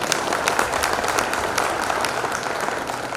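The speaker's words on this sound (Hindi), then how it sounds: "ये जो तालियां आप बजा रहे हैं" Audience clapping for guests at an event, a steady, dense round of applause from many hands, fairly close and loud, holding evenly before easing slightly at the end.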